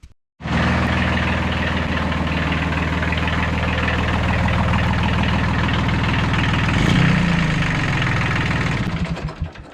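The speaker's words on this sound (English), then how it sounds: "So I got it running, and I ran it for a few minutes just to get some fuel through the system" An engine started up and idling steadily after its fuel filter was replaced, a loud, even rumble holding for several seconds before a brief rise and then tapering off near the end; no voices.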